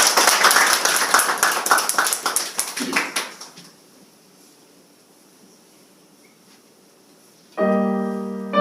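A church congregation claps warmly for a deacon coming forward to sing, loud dense applause that thins and fades over a few seconds into near silence before a sustained musical tone enters.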